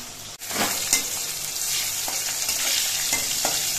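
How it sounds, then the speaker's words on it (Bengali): Steady, close sizzling of vegetables, including pointed gourd, frying in hot oil, with occasional crackles and pops over a constant hiss. "একে একে কিন্তু আমি সব সবজিগুলো ভেজে নিয়েছি।"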